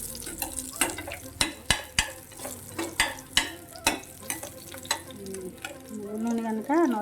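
Garlic frying in hot oil in a pan for moringa leaf and moong dal, a steady sizzle broken by repeated spoon scrapes and taps against the vessel.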